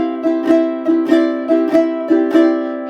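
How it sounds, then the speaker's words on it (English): A fingerstyle ukulele strummed hard in a regular rhythm, about five forceful strokes, each landing with a sharp percussive click from the nails hitting the top over ringing, sustained chords, close and loud. "But if I push into my uke, so much so that you might actually hear my nails hit the top."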